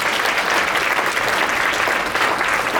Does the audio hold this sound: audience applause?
yes